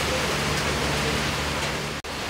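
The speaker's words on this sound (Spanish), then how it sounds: "La lluvia no ayuda." Steady rain falls at night at a ravine lookout, a dense, even hiss throughout with a brief dropout near the end.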